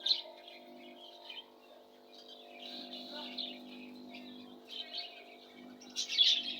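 Small caged birds in a pet shop, including budgerigars, lovebirds and cockatiels, chirp faintly and intermittently over a low steady background hum, with a brighter burst of tweeting at the end.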